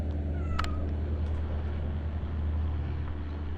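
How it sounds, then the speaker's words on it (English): A cat gives a single short meow in the video game Kentucky Route Zero, heard clearly over a steady low background hum. "Cat noise."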